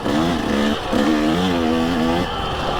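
A KTM 150 SX dirt bike ridden along a trail at Boulders OHV, its two-stroke engine revving loudly and close, the pitch rising and falling as the throttle changes.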